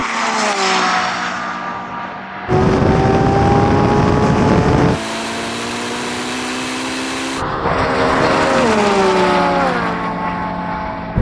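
Powerful engines of a Lamborghini Revuelto, Porsche 918 Spyder and Ferrari SF90 roar and rev hard at full throttle in a drag race launch, climbing in pitch through gear changes with an abrupt cut between segments, loud and close.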